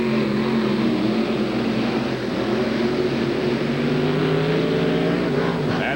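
Two 1990 monster trucks, Carolina Crusher and Wild Hare, race side by side at a TNT show in Bowling Green, Ohio, their engines giving a loud, sustained roar that swells slightly in pitch as they accelerate.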